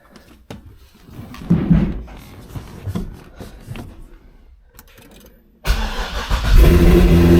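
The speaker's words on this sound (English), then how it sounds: "Alright, it starts the car." A C6 Corvette engine cranks and fires up after a few quiet clicks and thumps, then settles into a loud, steady idle rumble close by.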